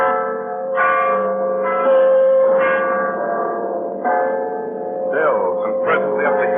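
Church bells ring out in an old-time radio drama, sustained overlapping tolls layered into a continuous resonant peal that swells and shifts over several seconds.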